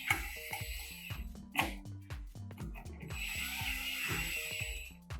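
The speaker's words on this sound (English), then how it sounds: "You screw in your plate first." A wall plate being screwed onto a dimmer switch, with repeated close ratchet-like screwdriver clicks over steady background music.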